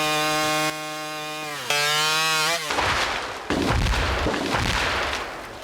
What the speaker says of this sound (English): It's really a sporty chainsaw.